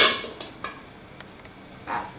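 A small pot is set down on a kitchen stove, giving a few light metallic clanks and knocks spaced apart, close by, with a softer scrape near the end.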